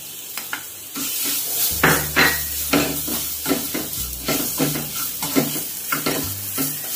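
Mango is stirred into semolina roasted in ghee in a pan: a soft sizzle runs under repeated scraping spoon strokes against the pan, an irregular series of close stirring scrapes.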